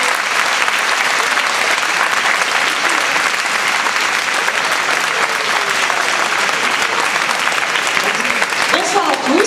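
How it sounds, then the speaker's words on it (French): Audience applause at an evening event, dense and sustained clapping at close range that holds at a steady loud level throughout. "nous l'applaudissons"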